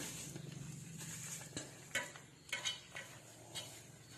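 Chopped onion being mixed by hand in a bowl while preparing chaya leaves, heard as faint, soft stirring and rustling with a few light clinks of the bowl, quiet and close, without talk.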